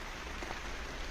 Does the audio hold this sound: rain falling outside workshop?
yes